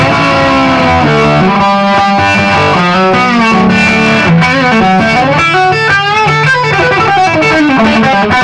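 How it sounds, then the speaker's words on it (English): An electric guitar played through an Analog Alien Bucket Seat overdrive pedal at full gain on the bridge pickup, giving a loud, saturated distorted tone with fast melodic runs and sustained notes. "smoking, smoking distortion tone with nothing on it at all."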